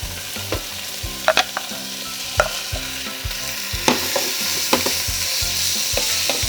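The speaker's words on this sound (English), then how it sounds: "now I'm adding the ground beef" Ground beef sizzles steadily in a hot pan while a utensil scrapes and stirs it, with clear intermittent knocks and scrapes over the continuous frying hiss.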